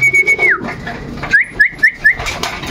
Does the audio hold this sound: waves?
no